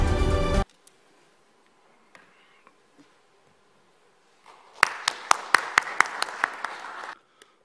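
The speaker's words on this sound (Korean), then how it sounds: "여러분 뜨거운 박수로 맞으시면 대단히 감사하겠습니다." At a Democratic Party leadership candidates' event in North Jeolla, an audience gives a short burst of scattered, distinct claps after a quiet stretch, moderately near and fading out.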